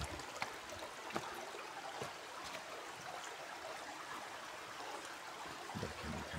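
A hill stream trickling along a mountain path, a faint continuous watery babble with small splashes scattered through it and no voices.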